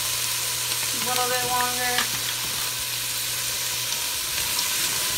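Turkey chili ingredients cooking in a pan, a loud, steady close-up frying sizzle running throughout, while a person speaks briefly over it.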